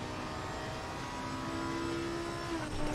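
Lamborghini Huracan EVO engine in the racing game Assetto Corsa Competizione on the Brands Hatch circuit, a steady droning tone that holds and then swells slightly toward the end.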